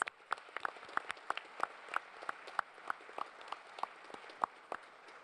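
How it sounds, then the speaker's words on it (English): Audience applause for a conference panel at the close of a debate session, a steady patter of many hands clapping at moderate distance, with sharper individual claps standing out throughout and no voices. "please can you give a round of applause for my esteemed panelists"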